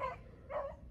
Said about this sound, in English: barking like crazy